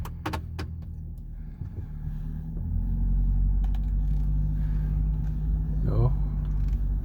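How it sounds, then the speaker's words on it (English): A Ford Super Duty pickup drives slowly with a steady low engine rumble and road noise, a few clicks and rattles early on and a brief squeak near the end. "Now we'll take a little drive"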